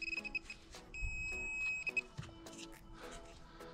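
A metal detector gives a clear electronic tone while hunting for buried objects outdoors, a sustained pure beep lasting about a second, preceded and followed by short chirps, with faint handling noise and ground scraping around it.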